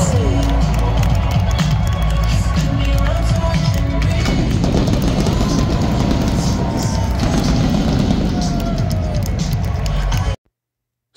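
A huge WrestleMania stadium crowd of around 72,000 cheers and roars continuously, loud and dense throughout before cutting off abruptly.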